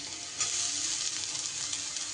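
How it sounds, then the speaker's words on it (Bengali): Onion, garlic and green chilli frying in a pan for a bitter gourd dish, giving a steady close sizzle with soft stirring scrapes and no talk. "পেঁয়াজ, রসুন, কাঁচা লঙ্কা বেশ ভাজা ভাজা হয়ে গেলে"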